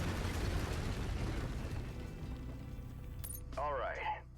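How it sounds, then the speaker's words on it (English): A mech in Mechwarrior 5 fires its lasers in a sci-fi combat game: a loud, rumbling burst that fades, then a sharp crack followed by a warbling, descending electronic zap near the end. "Lasers are mapped to Weapon Group 2. Fire them when ready."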